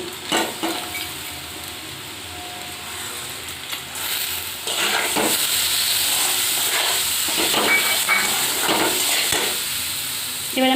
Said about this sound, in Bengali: এবার আমি একটু এটাকে নাড়াচাড়া করার পর মুগ ডাল ভেজানোটা দিয়ে দিচ্ছি